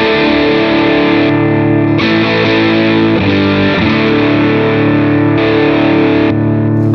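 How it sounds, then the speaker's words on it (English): An electric guitar runs through a drive pedal on a Positive Grid Spark amp, producing loud, sustained distorted chords that change a few times across the passage. "And we could add a drive pedal in front of it."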